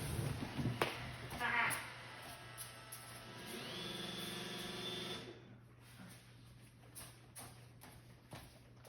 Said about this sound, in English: my Roomba's starting